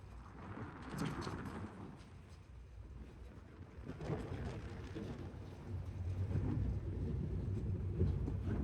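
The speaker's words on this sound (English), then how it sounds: "Cruising along. The wind." Wind buffets the microphone during a boat ride on the water, a steady low rumble and rush that swells louder toward the end, with no clear talking.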